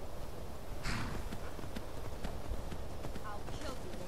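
Horse hooves clip-clopping in the video game Skyrim, a faint patter of steps under a dense, steady game soundscape, with a few sharper clacks standing out.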